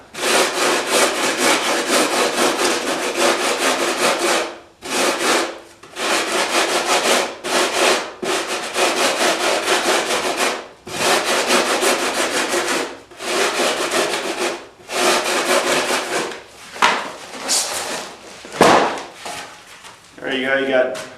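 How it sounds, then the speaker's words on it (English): Repeated rough scraping strokes of a sanding block on a wooden surfboard, steady back-and-forth rhythm in long bursts with short pauses, close and fairly loud. "a little sanding with the block"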